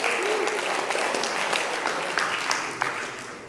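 A church congregation claps together in a sustained round of applause, dense and fairly close, fading slightly toward the end.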